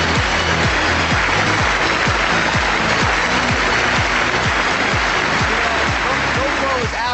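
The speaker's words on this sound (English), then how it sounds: "let's give a massive round of applause to Eric and Marina" A large audience at a Go Pro 2022 event applauds Eric and Marina with continuous, dense clapping, loud and sustained throughout, with some rhythmic pulsing in the crowd noise.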